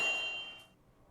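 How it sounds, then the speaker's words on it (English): A metallic anvil strike sample rings out once, a bright sustained ping that decays quickly into near silence within about a second. "It's called Anvil Sample"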